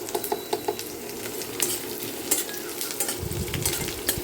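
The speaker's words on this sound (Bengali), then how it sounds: "পেঁয়াজটা একটু হালকা করে ভেজে নেব।" Onion lightly frying in a pan for lentil dal, a soft low sizzle under a few light stirring clinks and scrapes, fairly quiet and with no voices.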